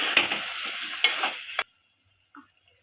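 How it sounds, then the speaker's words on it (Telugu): Okra pieces frying in a pan, a loud hissing sizzle with a few sharp spatula knocks that cuts off abruptly after a second and a half, leaving near silence and one faint clink. "చూడండి ఫ్రెండ్స్, బెండకాయ ముక్కలు కూడా వేగుతున్నాయి."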